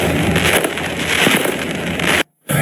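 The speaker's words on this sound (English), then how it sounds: "Y'all gonna see them fireworks still going off." Fireworks going off in a Compton street at night, a dense continuous crackle and boom that fills the air loudly before cutting out briefly near the end.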